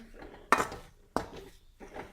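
Coconut ladoo mixture being stirred and fried in a pan, with two sharp metal scrapes or clanks of a spoon against the pan over a quiet background, a fainter scrape at the end.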